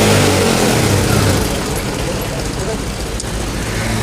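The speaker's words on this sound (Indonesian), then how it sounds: "Dan ini knalpotnya bocor, dan untuk langsamnya enak juga ya di sini. Oke, kita coba geber." A Honda Vario 125 scooter with a leaking exhaust roars close and loud as it is revved, a rough, continuous engine noise that holds steady throughout.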